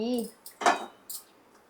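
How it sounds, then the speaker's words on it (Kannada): A kadai is set down on a kitchen stove before frying masala vada, giving a few brief, close metallic clinks and a clatter after a moment of voice. "ಬಾಣಲಿ ಇಟ್ಟು ಸ್ಟವ್ ಹಚ್ಚಿ."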